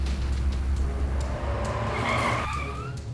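A car driven hard, tires skidding and squealing over a steady engine drone, loud and close, the squeal rising then fading.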